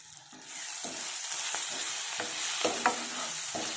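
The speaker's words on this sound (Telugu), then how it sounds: "మెంతికూర కూడా బాగా ఫ్రై అవ్వాలి దీంట్లో" Fenugreek leaves and vegetables fry in a pan with a steady close sizzle and several scraping stirs of a spatula at irregular intervals.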